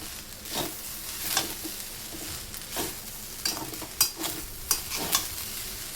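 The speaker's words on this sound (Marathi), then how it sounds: "मिक्स करून घेऊया." Vegetable fried rice with Schezwan masala is stirred in a large wok, making a continuous sizzle broken by repeated scraping strokes and sharper spatula knocks at an uneven pace, with no speech.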